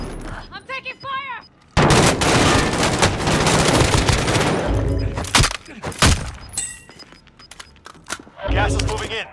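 Gunfire in the video game Call of Duty Warzone: dense, loud bursts of automatic weapon fire mixed with crashes and explosions, with brief voice calls before the shooting and quieter gaps between bursts.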